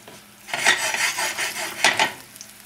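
Chicken cooking over a high flame in a non-stick skillet gives a few close, scraping stirs and clatters against the pan over a soft sizzle, with no talking.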